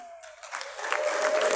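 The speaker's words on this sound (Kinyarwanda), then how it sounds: "n'abo bagabo bamuhereza amashyi n'impundu" Applause and ululation from guests at a Rwandan wedding celebration, a steady wash of clapping with high trilling cries rising over it, growing louder and denser over a short stretch.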